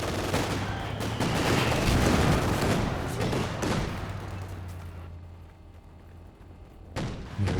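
Battle gunfire in Company of Heroes 2, a dense, loud barrage of shots and booms that gradually thins and fades, with a few isolated blasts near the end and no voices.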